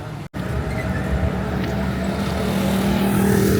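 Road traffic passing on a busy street, a continuous loud rumble and whoosh of vehicles close by, steady with a brief dropout near the start, no talking.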